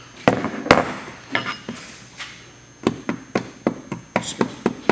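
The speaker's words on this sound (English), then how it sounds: "I'm going to take a hammer, tap, make sure it's good all the way" Hammer tapping a stainless steel accelerator pedal part laid on a table while fitting it to a Golf MKV/MKVI, giving a series of sharp, bright metallic knocks, irregular at first and then quicker near the end.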